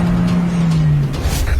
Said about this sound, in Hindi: वो देखो गाड़ी से भाग रहा है